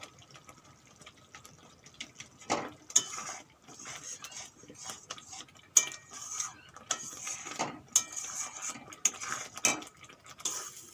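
Mashed taro stalk paste fries slowly in a pan to dry off its water. Quiet, intermittent metallic clinks and scrapes of a spatula against the pan sound over a faint sizzle.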